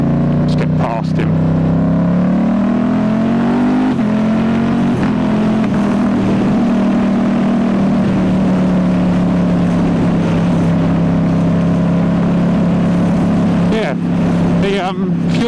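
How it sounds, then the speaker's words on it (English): A 2019 Ducati Diavel S motorcycle with a full Termignoni exhaust rumbles on a road ride, its engine droning steadily loud with rising and falling revs under heavy wind noise, a rider talking over it. "the engine on this one definitely feels a lot more aggressive than on the Multistrada"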